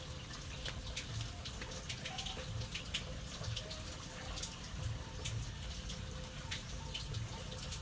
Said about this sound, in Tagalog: Ngayon po't malakas na yung tulo